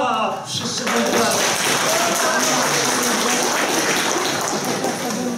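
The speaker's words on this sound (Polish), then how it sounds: "Wszyscy brawa." Convention audience applauding at GDAKON 2014 in Poland, a dense, steady wash of many hands clapping throughout, fairly loud and continuous.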